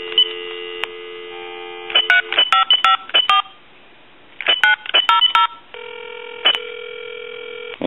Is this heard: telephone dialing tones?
yes